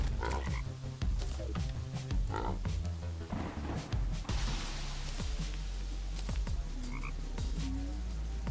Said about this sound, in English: Nuclear toads.